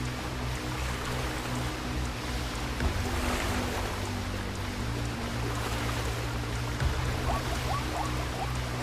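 River water rushes steadily and loudly as a herd of zebras swims across it, a constant broad wash of water with faint splashes and no voices.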